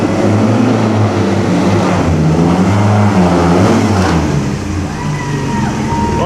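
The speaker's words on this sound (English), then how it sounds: "here comes another one of those noisy Ferraris." A loud Ferrari race car roars past at the Mille Miglia, its engine note rising and falling as it nears and moves away. The continuous close engine noise covers the whole stretch.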